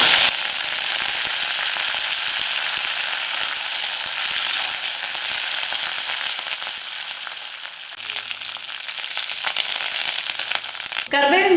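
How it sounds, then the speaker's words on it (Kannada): A handful of curry leaves frying in hot oil for a bitter gourd dry curry, giving a loud, steady crackling sizzle that runs the whole time, with a brief clatter near the end. "ಒಂದು ಕೈ ಹಿಡಿಯಷ್ಟು ಕರ್ಬೇವು ಸೊಪ್ಪನ್ನು ತಗೊಂಡಿದ್ದೀನಿ ಇದನ್ನು ಕೂಡ ಹುರಿಬೇಕು"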